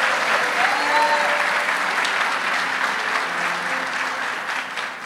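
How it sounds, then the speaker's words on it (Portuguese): Church congregation applauding the Lord during a worship service, dense steady clapping filling the room at an even loudness, with faint background voices and tones under it. "aplauda o Senhor Jesus"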